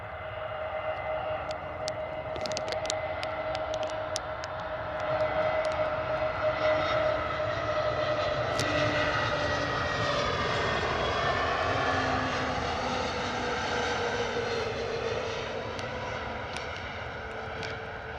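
An Airbus A320neo jet airliner approaching to land at Bristol Airport roars steadily overhead, its engine drone swelling and shifting in pitch as it passes close by, with no talking.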